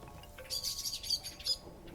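Birds in an interactive fiction video game give a quick burst of high, piercing chirps and tweets, several short calls close together, moderately loud over a quiet background.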